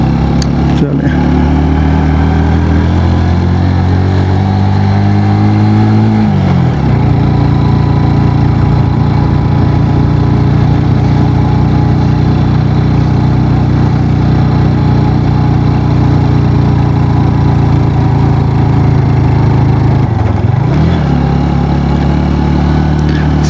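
A Honda CB 150F motorcycle engine runs steadily on a ride from Gilgit to Naltar Valley, a loud, continuous mid-range drone with wind noise, dipping briefly as revs change twice, close and dominant throughout.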